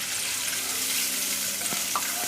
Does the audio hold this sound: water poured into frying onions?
yes